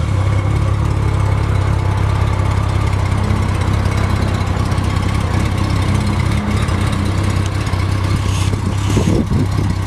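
A 1996 Honda Goldwing 1500 trike idles close by, a loud, steady engine rumble that holds evenly throughout with no voices over it.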